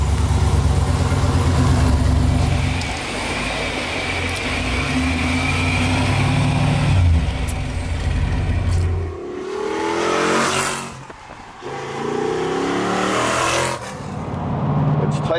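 An LS-swapped 1964 Corvette, its V8 rumbling at a deep idle up close, then revving and pulling away as the car drives off, with engine roar and road noise rising and falling.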